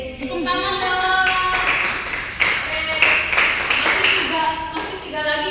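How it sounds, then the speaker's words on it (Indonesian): Classroom audience clapping during a micro-teaching lesson, a few scattered bursts of claps rising over children's voices and chatter, then trailing off. "Tepuk tangan dong."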